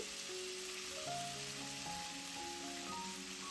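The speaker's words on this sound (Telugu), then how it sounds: "ఈ కరివేపాకుని మాడకుండా కలుపుతూ క్రిస్పీగా అయ్యే వరకు ఫ్రై చేసుకోవాలండి" Dried curry leaves sizzle and crackle in hot oil in a pan, a steady close frying hiss with faint tonal hum underneath and no talk.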